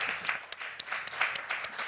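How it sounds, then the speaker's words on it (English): Audience at a financial markets conference applauds the panelists, a moderate ripple of clapping with a few sharper individual claps standing out. "please help me to applaud them"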